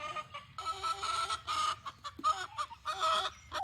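Hens clucking in a large cage inside their coop enclosure, a busy run of overlapping clucks and calls that rise and fall with short pauses, close and fairly loud.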